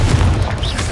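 A Confringo fire-spell blast in the video game Hogwarts Legacy, a deep booming burst with a dense rumbling low end and a brief whooshing flare, loud and close throughout one second.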